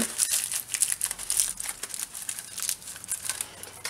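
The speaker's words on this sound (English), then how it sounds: "So I'm just going to take tin foil and ball it up" Tin foil is crumpled into a ball by hand, close and crisp, a continuous run of sharp crackling crinkles in quick bursts for a few seconds with no talking.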